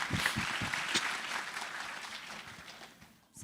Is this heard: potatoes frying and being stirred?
no